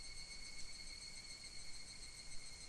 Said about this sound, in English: Only the cry of the cicadas remained annoyingly loud.